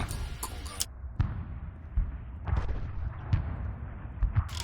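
A PPS-43 submachine gun in an Arma 3 war mod fires a string of separate sharp shots, spaced irregularly, with each crack ringing out clearly against a quiet background.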